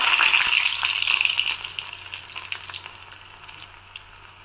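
Palm jaggery murukku fries in oil in an iron kadai, a bright crackling sizzle that starts strong and gradually fades to a softer, sparser bubbling over a few seconds, with no speech.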